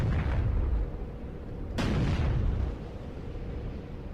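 Warship guns firing in the naval video game Battlestations Pacific, two heavy booming blasts about one and a half seconds apart, each rolling off into a long low rumble.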